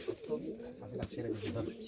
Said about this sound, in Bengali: চমৎকার কবুতর